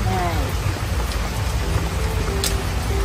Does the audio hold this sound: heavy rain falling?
yes